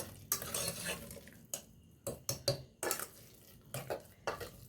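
Black kavuni rice sweet pongal being stirred in a pot, with a spoon scraping and knocking against the metal in irregular bursts, close and fairly quiet, separated by short pauses.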